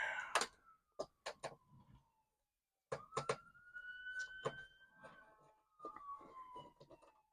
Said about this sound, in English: Awful lot of sirens out there today.